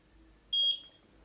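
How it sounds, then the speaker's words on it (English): A eufy Security Solo IndoorCam C24 gives a single short, clear electronic beep during setup, heard alone in a quiet room. "That's the beep, the camera."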